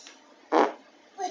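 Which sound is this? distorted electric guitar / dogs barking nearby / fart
fart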